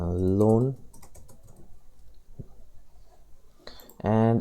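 Light computer keyboard typing, a loose run of soft clicks and taps at close range, heard between stretches of someone talking at the start and end.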